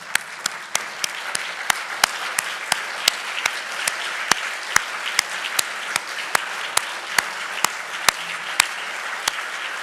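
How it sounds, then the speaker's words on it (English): Audience applause at a synagogue sisterhood Torah Fund concert and reception, with people standing to clap; steady dense clapping with sharp individual claps standing out, continuing for the whole stretch. "If you wouldn't mind rising, please, and applaud."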